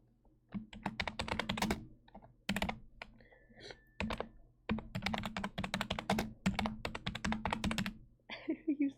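Fingers tap rapidly on a computer keyboard in bursts of quick clicks and thunks separated by short pauses, close and crisp in a quiet room, with a brief faint tone partway through.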